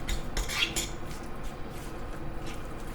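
Pad see ew noodles being mixed in a pan, with a quick run of metal utensil clinks and scrapes at the start, then quieter shuffling and a light sizzle close by.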